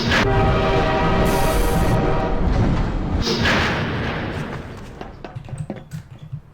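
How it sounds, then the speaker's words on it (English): A train running in a video game, a loud sustained rumble with a horn-like tone and heavy thumps that gradually fades to lighter clanks and knocks. "This is the train."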